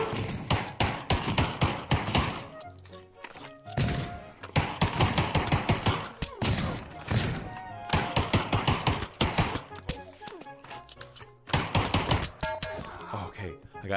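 Pistol shots crack in rapid bursts during a video game shooter match, mixed with game effects and a player talking over the action.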